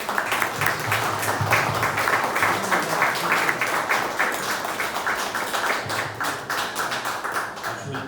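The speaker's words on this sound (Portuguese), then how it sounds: "uma salva de palmas para ela" Listeners at a commemorative history event for Brazil's independence week clap in sustained applause, a thick steady patter of many hands that continues evenly for about eight seconds.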